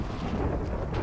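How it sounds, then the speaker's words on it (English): A thunderstorm summoned by a boss in a Minecraft mod fills the clip with a loud, continuous low rumble and roaring wind-like noise. "Summoned a storm?"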